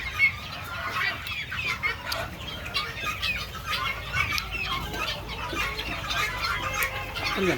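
A flock of chickens kept for sale on a farm clucks busily and continuously, with scattered wing flaps and overlapping calls, fairly near and without talk.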